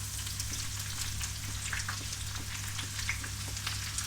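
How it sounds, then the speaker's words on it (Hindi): Chopped onion frying in a pan for chilke wali mash dal, a soft, even sizzle with small crackles that holds steady throughout, with no voices. "बस इसको कुछ सेकंड्स के लिए फ्राई कर लेंगे"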